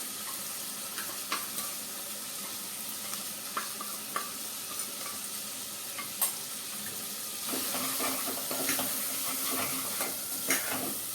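Spicy garlicky masala paste sizzles and fries in a pan with cluster beans and potatoes for a Kathiyawadi-style shak, with steady hiss, spoon stirring scrapes and clinks, growing louder toward the end, no voices.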